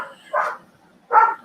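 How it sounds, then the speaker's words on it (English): A dog barks twice, loud and close, with a short pause between the two barks and no voices over them. "here goes the dog barking"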